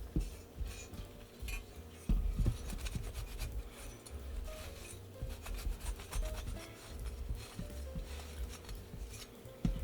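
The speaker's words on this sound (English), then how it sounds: "Might as well rub this down too." A PlayStation 1 metal shield being rubbed down, steady close scraping and rasping strokes with occasional clanks as the part is handled, quiet and without talking.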